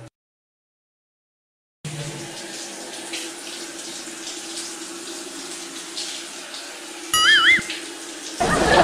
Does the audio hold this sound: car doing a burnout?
no